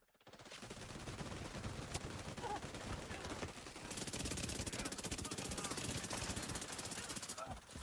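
A submachine gun fires in The Division 2 video game in long, dense automatic bursts that run almost without pause, loud and close, with sharp rattling shots layered over a busy combat din.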